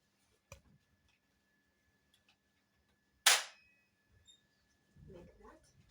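Trigger pulled on an M416 3-in-1 kids' toy airsoft gun, giving one sharp, close click in a quiet room, with small faint clicks before it and a low murmur near the end.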